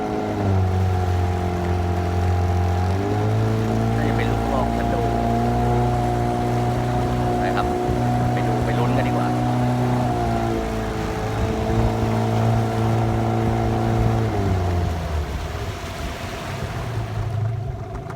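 A small boat's motor drones steadily on a fishing pond, close and loud, its pitch dropping and rising again as the throttle shifts, with wind and water noise around it.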